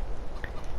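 Chickens cluck softly inside a henhouse in the farming video game Farming Simulator 22, a brief murmur of fowl calls under a steady, dense ambient background.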